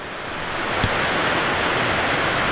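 Floodwater of a swollen creek rushes steadily at a concrete slab crossing, a dense, continuous roar of water close by, with no voices.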